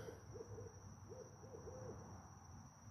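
An owl hoots in a short series of soft, low calls, distant and faint beneath a steady high-pitched insect drone at night.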